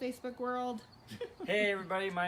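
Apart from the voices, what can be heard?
No everyday noise stands out behind the speech.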